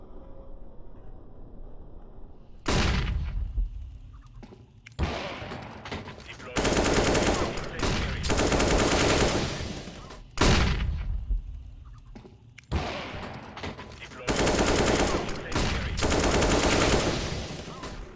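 Bursts of automatic gunfire from a first-person shooter, loud and close, arriving in several long sustained volleys separated by brief pauses, with no talk over them.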